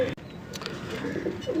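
Pigeons coo in short, low, throaty calls that come close together and fairly near, with a faint hum of background noise under them.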